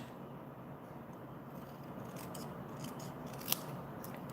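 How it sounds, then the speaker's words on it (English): Scissors snipping out a paper stamp image at a crafting table, a soft steady rasp of cutting with one sharper snip near the end, quiet and close. "I'm just going to use my scissors"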